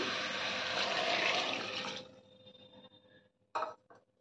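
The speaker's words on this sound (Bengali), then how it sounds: "এবার আমি দিয়ে দিচ্ছি গরম জল।" Hot water pours into a pot of chicken stew with onions and beans, a full rushing splash for about two seconds, then quiet followed by a brief metallic knock.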